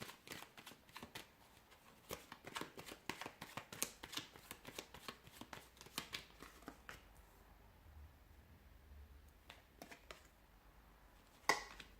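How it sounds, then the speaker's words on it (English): Tarot cards are shuffled in a long run of quick, soft riffling taps close by, faint and steady, ending with a sharper snap. "give the cards a shuffle"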